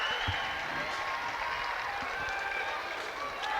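Crowd at a Wrexham versus Briton Ferry football match applauding, a continuous wash of clapping and crowd noise with a few thuds, running beneath a commentator's voice.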